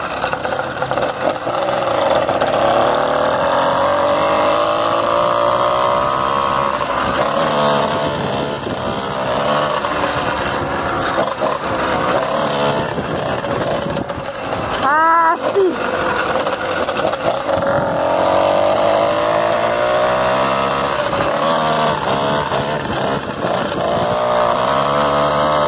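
A motorized bicycle engine runs loud and close in a steady buzzing drone for the whole stretch, its pitch swelling and dipping briefly partway through before settling back to an even hum.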